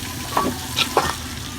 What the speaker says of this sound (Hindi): अब अच्छे तरीके से हमने प्याज और घी को मिक्स कर लेना है, इसको फ्राई करना है।